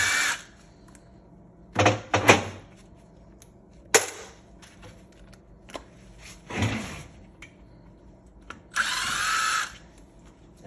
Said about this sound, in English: we'll just start by taking the bolts out of it and getting these caps off the end of it